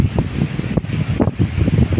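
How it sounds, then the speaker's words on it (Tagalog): Strong wind blowing hard past the microphone outdoors, a steady loud rumbling buffet with gusty surges throughout, no one speaking. "Grabe ang lakas ng hangin."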